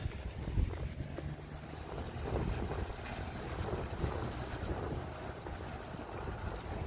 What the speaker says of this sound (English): The wind is just making it really cold.